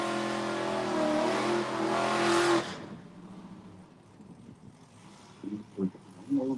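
Cadillac race car on a circuit sweeping past with a loud, rising engine whine that cuts off abruptly, followed by quieter ambience and brief bursts of speech.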